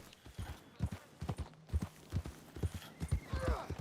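Horse hooves clip-clop in a steady rhythm within a video game during a live stream, moderately close and fairly quiet, with an occasional faint whinny-like tone near the end.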